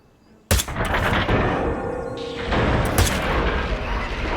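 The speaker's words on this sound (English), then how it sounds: "Remember at 48 seconds to bring out the sniper, and at 50 seconds to shoot this." A sniper rifle fires in the video game Hitman 3: a sharp, loud report that opens with a hard crack and then rolls into a long, dense booming echo with a second burst of crackle, with no one talking.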